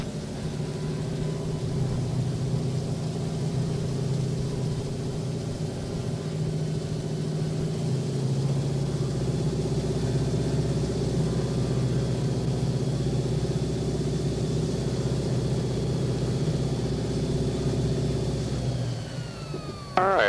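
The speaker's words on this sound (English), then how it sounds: "I'm going to do some engine checks here." A steady aircraft engine drone holds through engine checks in a flight simulator game, even and continuous, with a brief change near the end.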